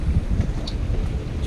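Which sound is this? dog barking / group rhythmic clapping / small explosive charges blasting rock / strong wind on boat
strong wind on boat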